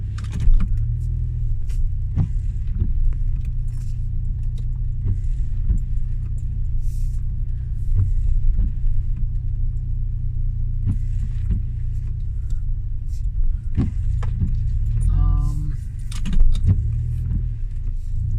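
A car drives along on a morning commute, its steady low engine and road rumble running throughout with occasional small interior clicks and knocks, close and continuous with no talking.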